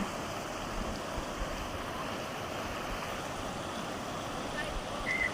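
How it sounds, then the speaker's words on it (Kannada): A stream flows steadily in the green hill country around Kalasa, its continuous rushing and gurgling holding an even level throughout, close by and unbroken. "ಅಲ್ಲಿ ನೀರು ಹರಿಯೋ ಸೌಂಡ್ ನೋಡಿ ಎಷ್ಟು ಚೆನ್ನಾಗಿ ಕೇಳಿಸುತ್ತೆ, ಜುಳು ಜುಳು ಜುಳು ಅಂತ."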